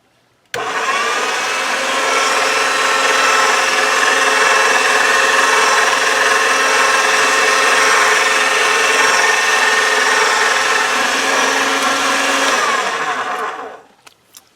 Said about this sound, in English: I'm pulling on it as it comes out of the pasta machine